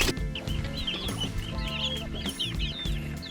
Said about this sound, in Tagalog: Pakain tayo sa ating sisiw.